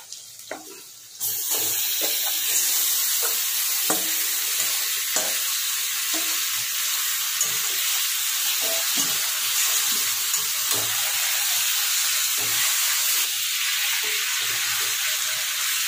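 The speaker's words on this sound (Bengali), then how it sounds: "এবার দিয়ে দেবো ম্যারিনেট করা মাংসটা" Marinated mutton hitting hot oil with lightly browned onions for a Sunday mutton bhuna, a sudden loud sizzle that holds steady and close, broken by occasional stirring knocks against the pan.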